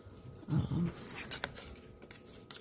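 Dogs indoors give a short burst of low whimpering or grumbling vocalisation close by, followed by quieter faint sounds against a soft room background.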